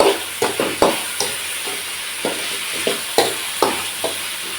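Eggplant with salt fries in oil for vangi bath, with a constant close sizzle broken by repeated scraping stir strokes at an irregular pace, and no one speaking.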